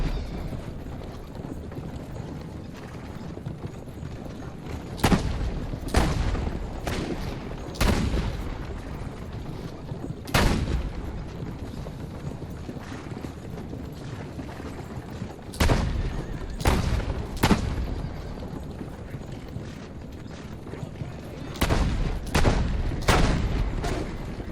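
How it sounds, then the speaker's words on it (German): Gunfire from Leonardo's war machine in Assassin's Creed Brotherhood, sharp booming shots spaced irregularly, some single and some in quick clusters of two or three, loud against a steady low background. "Hier kann man echt übelst präzise schon schießen."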